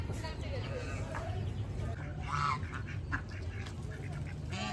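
Ducks quack in short nasal bursts, with a louder cluster midway, over a steady low background as voices talk quietly nearby.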